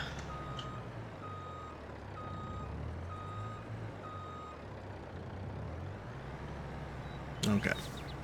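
Truck reversing beeps in a video game, a regular series of evenly spaced beeps over a low engine rumble, moderately loud, ending with a brief clatter.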